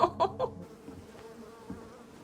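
Bees buzz in a TV drama scene set in a garden shed: a low, steady drone under a few short opening sounds, with no talk.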